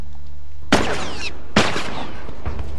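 Two loud bursts of gunfire in The Last of Us, each a short rapid volley, with a fainter shot near the end and no talking.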